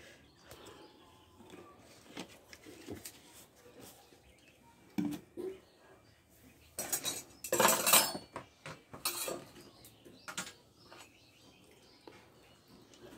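A cooking pot clanks onto a stove among scattered metal clinks of utensils, followed by a brief louder burst of hiss as oil is poured in. Intermittent, close, and otherwise fairly quiet.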